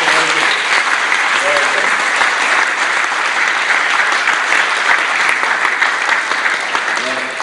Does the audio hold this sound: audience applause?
yes